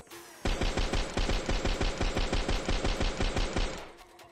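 A Tommy gun fires in a video game, one sustained rapid burst of evenly spaced shots lasting about three seconds, loud and close, then tailing off into faint background noise.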